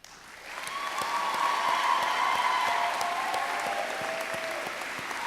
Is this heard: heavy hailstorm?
no